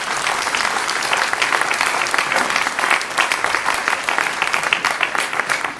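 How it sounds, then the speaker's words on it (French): A political speech audience applauds a mayor with loud, sustained clapping from many hands that fills the whole stretch without pause. "donc vous pouvez l'applaudir"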